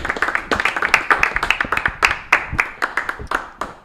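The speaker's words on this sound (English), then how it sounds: "Big round of applause for the very funny man" Small comedy-club audience at a geek-themed stand-up show claps for comedian Ben Rose, with distinct, close individual hand claps tumbling over one another in a lively but modest burst of applause.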